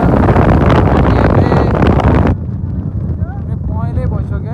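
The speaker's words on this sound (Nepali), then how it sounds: "गाउँमा आएर चाहिँ एकदम हावा चलिरहेको छ" Strong wind buffeting a phone microphone in a mountain village, a loud rumbling roar that drops sharply partway through, with a person talking over it.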